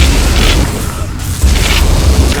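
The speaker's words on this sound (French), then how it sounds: "J'ai un canon nucléaire." Nuclear cannon firing in the video game Half-Life: Black Mesa, a dense continuous boom with a low rumbling roar that runs throughout, with a brief dip and a renewed surge partway through, loud and up close.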